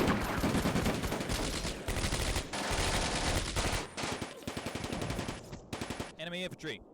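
Rapid machine-gun and rifle fire from infantry in the World War II desert game Combat Mission: Afrika Korps, loud and continuous bursts crackling densely for most of the stretch before thinning into a few scattered shots near the end.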